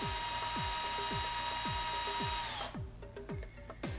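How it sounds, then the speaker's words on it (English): A hammer drill bores a hole in concrete with a masonry bit, ready for a plastic anchor: a loud, close, continuous grinding whine with rapid repeated clicks, stopping abruptly near the end and leaving short mechanical ticks. "First, you need to drill a hole with the masonry drill bit, which is the same size as the plastic anchor."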